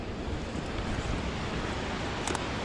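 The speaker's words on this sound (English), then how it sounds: "We were walking right into the wind." Strong wind buffets the microphone while hikers walk into it on a trail in the Columbia River Gorge, Oregon, a loud, continuous rushing roar over a short stretch.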